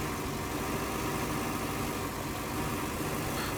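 A farm tractor engine running in a farming simulator game during field work, giving a continuous steady drone with no break and no voices.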